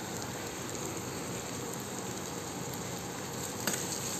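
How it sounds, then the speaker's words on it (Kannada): Chopped onions frying in hot oil for a brinjal gravy, a steady close sizzle with a constant crackling hiss and no talk. "ನಾವು ಕಟ್ ಮಾಡಿ ಇಟ್ಕೊಂಡಂಥ ಉಳ್ಳಾಗಡ್ಡಿ ಹಾಕಿ ಆ ಎಣ್ಣೆಯಲ್ಲಿ ಫ್ರೈ ಮಾಡಬೇಕು"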